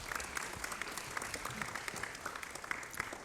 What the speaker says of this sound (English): Can you give them a big round of applause, please?